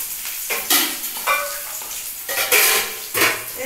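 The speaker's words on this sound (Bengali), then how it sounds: "সঙ্গে দিচ্ছি পেঁয়াজ, এই তরকারিটা খুব অসাধারণ লাগে। আর দিচ্ছি রসুন কুচি, পেঁয়াজ কুচি আর রসুন কুচি।" Chopped onion and garlic cook in a pan for a curry, with repeated scraping stirs of a utensil against the pan and a soft sizzle coming in uneven close bursts.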